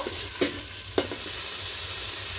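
Ginger garlic paste stirred in a frying pan for pepper chicken, giving a steady low sizzle with two sharp scraping strokes near the start, no voices.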